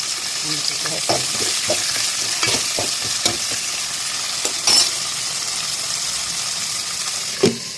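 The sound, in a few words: stirring brinjal curry frying in pan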